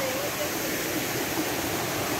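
River with somewhat dirty water flowing, a steady broadband rushing hiss, faint and continuous without breaks.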